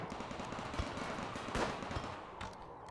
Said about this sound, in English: now hopefully we can just blast them down with our turrets